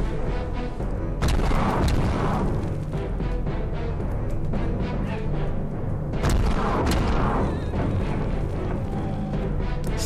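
Ballista shots from the battle game Totally Accurate Battle Simulator, a dense, continuous barrage of booming impacts and crashes with two sharper bursts standing out, loud and busy throughout.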